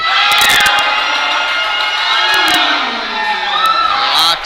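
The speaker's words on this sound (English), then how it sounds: "Crowd goes wild" A crowd at the 2022 NAPF regional powerlifting championship roars after a good lift. The cheering is loud and sustained, with whoops and shouts rising over the noise, then swells again near the end.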